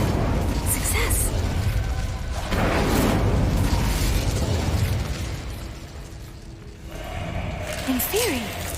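The Incendio fire spell is cast in the Hogwarts Legacy video game, giving a burst of whooshing, crackling flame with booming low rumble. It is loud and sustained for several seconds before fading under other game effects, and a voice speaks briefly.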